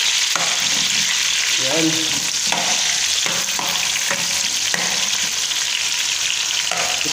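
Garlic sautés in a pan with a loud, steady sizzle, broken by several scraping stirs of a utensil, while a single spoken word is briefly heard.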